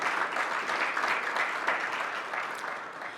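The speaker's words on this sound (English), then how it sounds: "So one round of applause, please, for all of our government officials and dignitaries joining us tonight." Round of applause for government officials and dignitaries at a Black business networking event, brisk continuous clapping from an indoor audience, steady and fairly loud.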